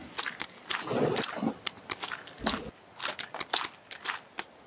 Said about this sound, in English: I keep hearing weird ass sounds and it's just me crunching along.